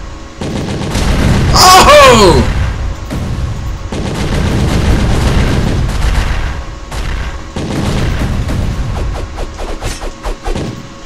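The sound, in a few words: artillery barrage explosions in a video game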